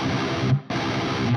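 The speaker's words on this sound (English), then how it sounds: "The last technique that we're going to talk about is what I call a triplet gallop, and it is basically a 4-note gallop." Distorted electric guitar playing metalcore triplet gallop chugs, four-note palm-muted bursts in a heavy riff, loud and close with one short gap between phrases, no voices.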